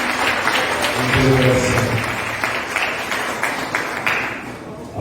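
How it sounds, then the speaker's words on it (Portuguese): Church congregation applauding the Lord during a service, a sustained wash of many hands clapping at steady loudness with a voice speaking over it throughout. "Pode se assentar, aplauda ao Senhor."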